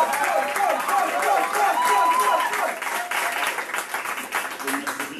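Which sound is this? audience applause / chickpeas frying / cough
audience applause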